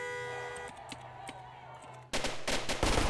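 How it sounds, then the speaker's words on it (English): Rapid gunfire from someone mag dumping in the Roblox game Mano County, starting abruptly after a quieter stretch and continuing as a dense, loud burst of shots in the second half. "they're mag dumping back there"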